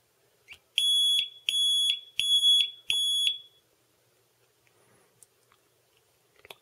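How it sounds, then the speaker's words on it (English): A small beeper driven by a 555 timer circuit sounds four evenly spaced, shrill electronic beeps, loud and close, followed by a near-silent stretch with a few faint clicks. "This circuit uses a little buzzer, actually a beeper."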